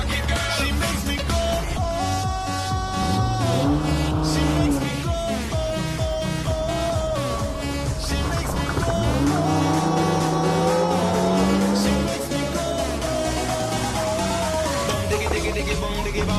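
In a video game, a car is floored at full throttle on an open street. Its engine note climbs repeatedly in pitch as it revs hard, set against a dense, continuous backdrop of game sound.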